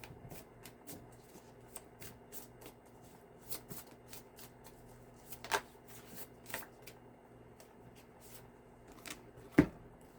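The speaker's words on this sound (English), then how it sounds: "Not crazy about this deck. They want to stick together no matter how many times you shuffle them." A tarot deck being shuffled by hand, a quiet series of brisk riffles and soft card slaps in irregular bursts, close and faint, with no talking.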